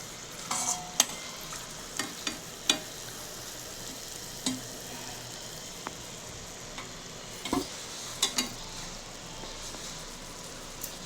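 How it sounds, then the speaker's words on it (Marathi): Kachori fry in oil in a pan over low heat, a soft steady sizzle under occasional sharp clicks and scrapes as they are turned over. "त्याला आलटून पलटून शेकायचं एकदम ब्राऊन कलर येईपर्यंत"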